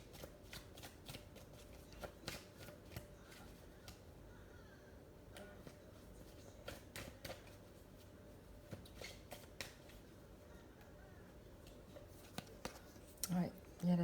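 Life mission oracle cards are shuffled at close range, a soft steady riffle of papery flicks and taps running throughout, with a few sharper card snaps and a voice speaking occasionally over it.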